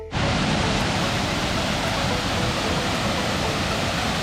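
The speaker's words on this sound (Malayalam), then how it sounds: "ഇവിടെ ഇങ്ങനെ ഇരുന്നാലേ നല്ലൊരു വെള്ളച്ചാട്ടത്തിൻ്റെ ശബ്ദം നമുക്കിങ്ങനെ കേൾക്കാനുണ്ട്" A large waterfall near Kanthalloor roars as a dense, continuous wash of rushing water, loud and unbroken throughout.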